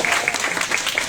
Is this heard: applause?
yes